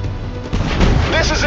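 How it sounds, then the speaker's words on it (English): Tank cannon fire in the War Tanks Online video game, a booming blast with rumbling low end that swells midway and stays loud, with a voice shouting over it. "Gunfire!"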